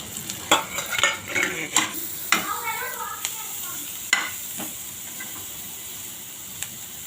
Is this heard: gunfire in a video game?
no